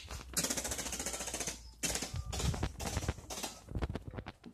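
A voice imitates AK-47 gunfire with rapid rattling bursts, loud and close, broken by brief pauses between runs.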